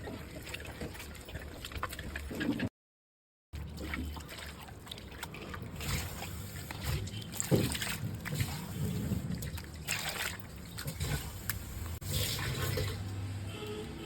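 Goat tripe is washed by hand in water, giving a continuous sloshing, dripping and splashing with irregular squelches; one brief dropout breaks the sound.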